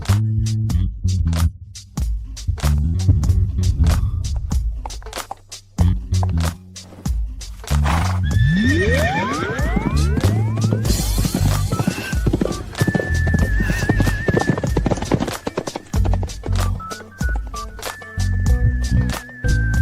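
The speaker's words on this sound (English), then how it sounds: "Li Suye, you ride really well" A horse being ridden, with rapid rhythmic hoof clip-clops throughout, close and loud, broken by a couple of drawn-out neighs in the middle, no talking.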